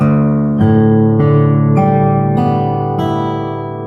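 An electric guitar in drop D tuning plays five ringing notes in an even sequence, each new pluck sounding about half a second after the last, heard alone.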